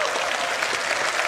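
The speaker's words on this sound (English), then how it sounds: "can we get a round of applause for Tyler and Leah" Audience applause fills a large hall at the CitizenCon fan convention, a dense, steady burst of clapping from a big crowd heard on its own.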